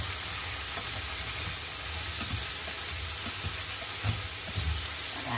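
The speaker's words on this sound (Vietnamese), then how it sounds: "xào cái này nó gọi là xào giòn" Squid crisp stir-fried in a dry pan with garlic and onion makes a steady loud sizzle and hiss, with occasional scraping stirs and clacks of a utensil against the pan, no voices.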